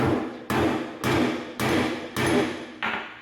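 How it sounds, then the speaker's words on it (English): Hammer blows closing a snare cable restraint, six loud, sharp strikes at an even rhythm about half a second apart, close to the microphone, with no talking. "pull it down, hammer it shut"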